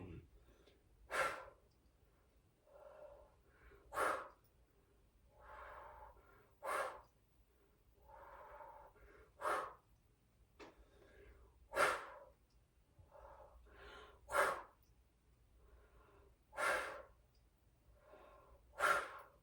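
Deep breathing during a qigong exercise, about eight slow, breathy inhale and exhale cycles evenly spaced and close, with faint guiding speech between them.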